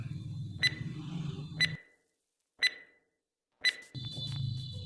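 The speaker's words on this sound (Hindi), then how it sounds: "आपका टाइमर शुरू हो जाता है अब" Countdown timer effect for a Hindi pub-style trivia quiz: sharp, bright ticks or beeps land roughly once per second, four in a row, while a low background music bed drops out between them and returns at the end.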